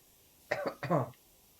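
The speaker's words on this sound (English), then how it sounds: "You need to go and see somebody about that bloody cough." A person's cough, a short burst of two or three harsh rough coughs close to the microphone in otherwise quiet surroundings.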